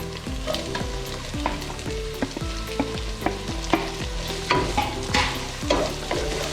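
Sliced onions added after green chillies sizzle steadily in a pan for Kerala-style fish curry, with stirring scrapes and a melodic tonal backing running throughout.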